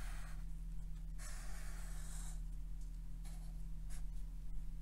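A pen draws a diagram of a shell with thick walls on paper, its strokes coming in close, steady scratching bursts with short pauses between them, over a faint constant hum.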